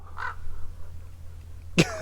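A crow caws loudly twice, one short call early on and a sharper, louder caw near the end, with a low background hum between them.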